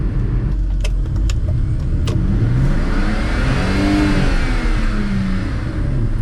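A drift car with an open differential revs hard and continuously as one wheel spins, the engine loud and near with rising and falling pitch sweeps throughout.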